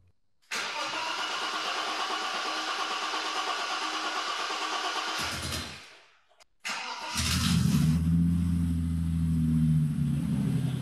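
A BMW E30 Touring's starter cranks steadily for several seconds, falls silent briefly, then the engine catches and settles into a loud, even idle rumble.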